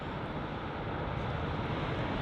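A Boeing 777 on final approach at London Heathrow produces a steady broad engine roar, moderately loud and sustained, with no voices.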